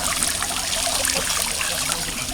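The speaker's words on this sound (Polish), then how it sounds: "szum tej fontanny" Fountain water trickles and splashes in a steady, close, continuous rush that stays even throughout, with no voices.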